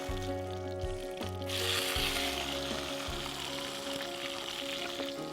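Country tomatoes and green chillies hit hot oil with mustard seeds and fenugreek for a gooseberry sambar. A soft crackle swells into a broad, steady sizzle over a low electrical hum, with a few quiet bumps early on.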